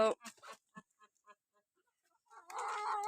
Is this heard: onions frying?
no